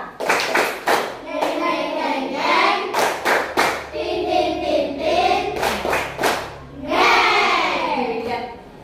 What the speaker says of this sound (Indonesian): anak-anak coba sekarang tepuk motor